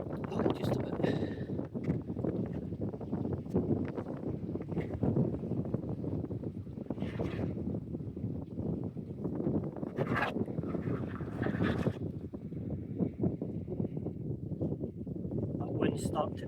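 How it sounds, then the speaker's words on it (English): Gusty outdoor wind buffets steadily and roughly throughout, with occasional stronger bursts, while people talk in the foreground. "That wind's starting to pick up already."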